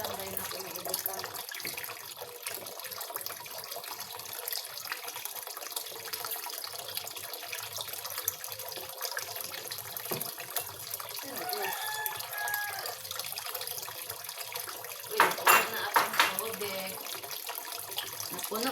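Water pours steadily from a tap into a container, a continuous close splashing rush that runs throughout, briefly louder near the end, under occasional faint background voices.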